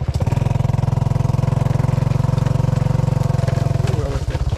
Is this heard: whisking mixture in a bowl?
no